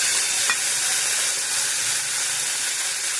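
Green peas sizzle and fry in a pan for upma, a loud, steady hiss with a faint stir near the start.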